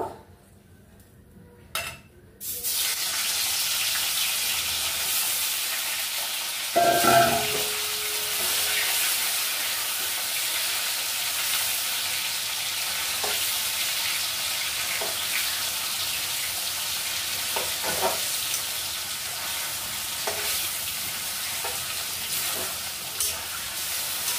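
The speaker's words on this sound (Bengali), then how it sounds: "এবার পনিরটা আমি ভাজা করে নেব।" Paneer fries in mustard oil in a wok, a loud continuous sizzle with a sharp metallic clank near the start and scraping stirs scattered throughout; no one speaks.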